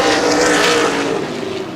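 Race cars in an ARCA/CRA Super Series race at Baer Field Speedway, a loud continuous engine roar that swells and then eases slightly as the cars run through the turns.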